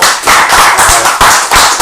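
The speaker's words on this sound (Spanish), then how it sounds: "Démosle un aplauso a don Juan, por favor" Loud, dense audience applause at a talk-show event on sexual diversity, a steady wash of many hands clapping with rhythmic surges, close and without speech.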